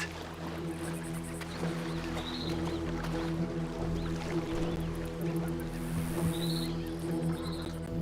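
A motorboat engine in Grand Theft Auto 5 drones steadily with a low, even hum and faint water noise, without pause.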